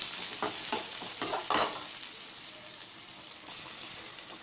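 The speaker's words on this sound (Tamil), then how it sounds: "கடுகு நல்லா பொரிஞ்சிடுச்சு ஃப்ரெண்ட்ஸ்." Mustard seeds and chopped onions fry in hot oil for a Tamil cabbage kootu. The oil gives a close, crackling sizzle with quick popping bursts early on, then settles into a softer, steady fizz.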